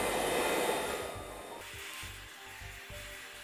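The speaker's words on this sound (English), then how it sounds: "start there with a medium heat and a medium setting on the blow dryer." A blow dryer on a medium heat and medium setting whooshes steadily at moderate strength while drying hair, its airflow shifting and dropping slightly partway through as it is moved around.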